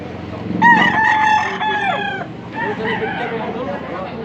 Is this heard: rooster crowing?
yes